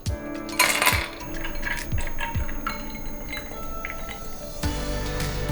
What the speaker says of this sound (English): In my other cup, I'm going to add a couple cubes of ice and milk.